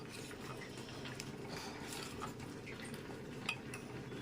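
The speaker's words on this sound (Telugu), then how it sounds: "ఇప్పుడు కాస్త మనం మెల్లగా అలా కలుపుతూ ఉన్నాం. ఇలా కలిపేసేసుకోవాలండి." Slow stirring of moong dal payasam with milk in a cooking pot gives soft, steady scraping and light clinks of a spoon against metal, continuous and close, with no talking.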